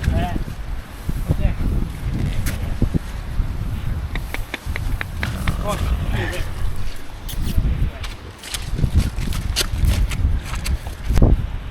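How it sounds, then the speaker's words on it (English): Hooves clop slowly and unevenly on hard ground as horses walk past in Knoydart, Scotland, with wind buffeting the microphone and a low rumble underneath. "Beautiful horses."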